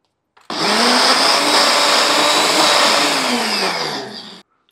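A mixer grinder grinds masala with green chillies, starting abruptly and running as a loud, steady whir close up for about four seconds before cutting off, no talk.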